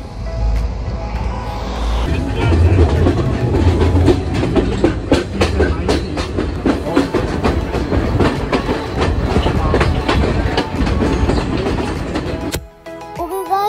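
A train in Nuwara Eliya, Sri Lanka, rumbles steadily along the rails with a rhythmic clickety-clack, loud and close, before the noise drops away near the end.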